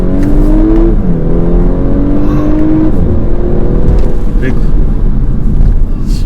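An Audi A5 Sportback quattro revs hard in first gear on a road drive, the engine note climbing loudly and steadily from close by inside the car.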